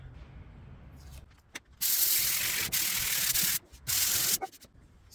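Sander working over a glued maple and walnut board, loud bursts of hissing abrasion starting and stopping in three stretches with quieter handling noise between, close up, no talking.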